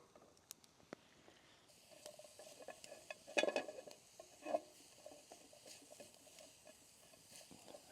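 Onions and peppers sizzling in a pan over an outdoor cooking fire, a faint, steady crackle and hiss with light stirring scrapes and occasional louder pops, no talking.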